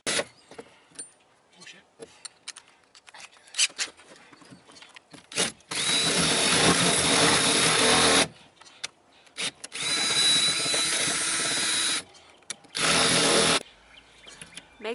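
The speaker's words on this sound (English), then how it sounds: "Drill a hole in the side of the shed to mount the electric fence charger." A power drill bores a hole through the side of a shed wall for mounting an electric fence charger, running in three long whirring bursts between quieter clatter and handling noises.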